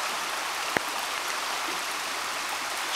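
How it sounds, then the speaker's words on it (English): Soft, steady rushing of a babbling brook beside a creekside campsite, a continuous gentle wash of water with one brief click partway through, no voices. "the creekside campsite for the shindig with the sound of the babbling brook"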